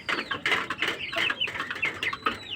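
Rhode Island chickens on a small farm cluck and chatter close by in quick overlapping calls, busy and irregular with no talking.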